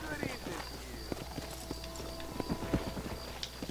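Horse hooves clip-clop at a slow walk in the Western video game Red Dead Redemption, an irregular run of soft, close knocks under game dialogue and a low background ambience.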